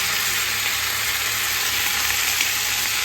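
Bottle gourd milk posina curry frying and being mixed in a pan, giving a steady, even, close sizzle with no pauses and no voices.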